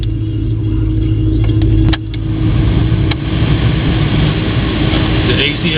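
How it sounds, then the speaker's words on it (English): A car's engine idles steadily with the air conditioning running on max, a constant low rumble and fan hum holding throughout with a few brief clicks. "The AC is on max at idle."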